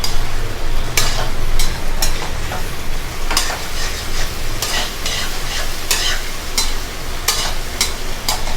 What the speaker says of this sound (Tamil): முட்டையை சேர்த்து நல்லா சாத்திய பண்ணி விட்டுடணும்.